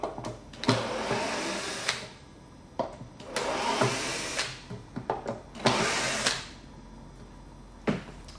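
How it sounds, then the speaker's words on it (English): A power screwdriver unscrews the front panel of a Bravo Medium DG cajon, whirring loudly in three long bursts with short pauses between them and scattered clicks in the gaps. "So first of all, let's unscrew the front panel."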